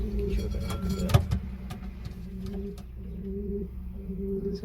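Soft, low cooing from a Barless pigeon hen sitting in a breeding box repeats in a steady rhythm, close by, with a sharp brief knock and faint background noise around it.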